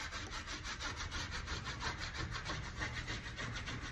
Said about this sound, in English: I'm gonna rub the wax on here.